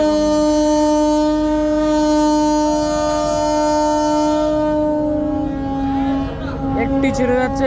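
The large passenger launch Parabat 12 pulls away from the Barisal ghat, sounding a loud, sustained steady horn blast over engine rumble, with people talking nearby toward the end.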